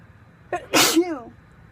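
A single sharp, close sneeze with a short breathy lead-in, then a voiced trailing tail fading out.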